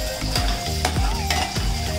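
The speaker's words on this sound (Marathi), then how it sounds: "त्यामध्ये जवळपास 2 टीस्पून आपण आपलं वाटण जे आपण केलं होतं ना ऑनियन टोमॅटोची पेस्ट, ते ऍड करायचं आणि त्याला छान पैकी सौते करायचं" Onion and tomato paste sautéing in coconut oil in a pan: a continuous close, loud sizzle with repeated scraping stirs and light clinks throughout.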